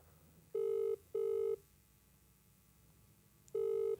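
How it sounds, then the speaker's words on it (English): An outgoing telephone call rings on the line: three evenly pitched ringback tones, the first two close together and the third after a longer pause, heard clearly and alone over a quiet background hiss. "Call Lewis Spears, see how he's doing"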